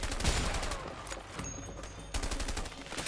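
Dense gunfire from the co-op video game A Way Out during a jungle fight at a compound, a continuous rattle of overlapping shots and bursts throughout, fairly loud, with no talking.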